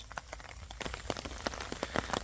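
Rain falls in a green Punjab village beside a canal during the monsoon, a dense patter of drops striking surfaces nearby with scattered louder taps, steady and without talking.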